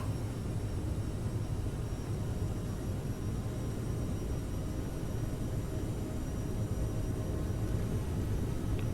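Jet airliner engines roar during a takeoff roll at LaGuardia on an Endeavor Air flight, a steady, dense broadband rush heard from inside the aircraft without letup.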